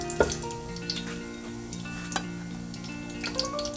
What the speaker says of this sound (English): Just gonna give it a small stir. Let it infuse in the oil.